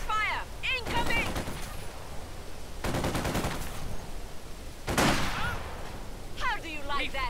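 Gunfire in the Company of Heroes 2 war game, with bursts of rapid automatic fire and blasts close up amid continuous battle noise, while game voices shout orders over the shooting.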